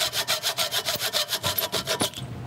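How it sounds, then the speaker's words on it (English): A handsaw cuts through a clamped piece in steady back-and-forth strokes, about a dozen rhythmic rasping passes close up, ending as the blade finishes the cut, with no talk over it. "And then if you're using a handsaw, just go ahead and cut it there."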